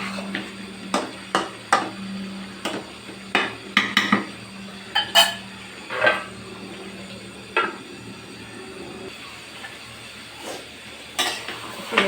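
Beef liver curry being stirred in a pan, a spoon scraping and knocking against the metal in scattered sharp clacks over a low steady background hum, with no talking.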